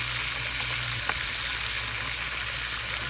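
Crayfish frying in hot oil with a steady sizzle and crackle, plus one sharp pop of splattering oil, close and continuous with no voices.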